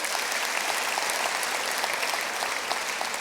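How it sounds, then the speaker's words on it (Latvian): An audience at a conference opening claps steadily and densely, a close, even wash of applause that holds throughout without voices standing out. "Aplausi visiem jums!"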